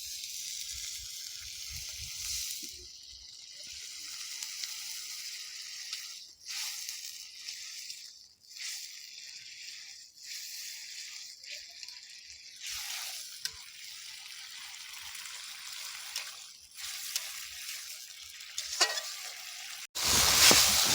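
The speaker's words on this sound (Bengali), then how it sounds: "এখন আমরা হালকা একটু জল দিয়ে মশলাটা কষিয়ে নেব।" Spice masala for mutton ghugni sautéing in a pan after a splash of water, with a steady close sizzle, intermittent stirring scrapes, and a louder burst of frying near the end.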